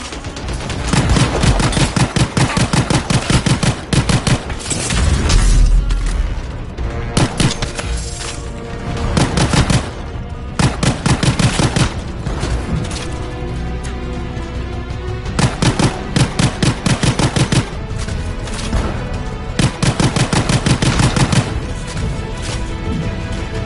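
Sustained gunfire and automatic bursts from the video game Anthem, loud and dense throughout with rapid repeated shots, occasional heavier booms and a busy battle mix, no voices.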